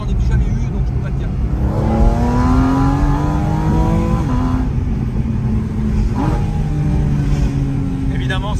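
A Porsche Cayenne Turbo S engine and exhaust rev with rising, throaty pulls, easing off and surging again up close, while someone talks over the sound.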